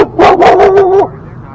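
A dog barks out on an electric bike ride: one quick run of yelping, whining barks lasting about a second, close and loud, then quiet outdoor background.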